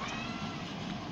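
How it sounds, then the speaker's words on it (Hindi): Household cats meowing close by in a home kitchen, a short continuous stretch of mewing with no talk over it. "और ये हमारी बिल्लियाँ"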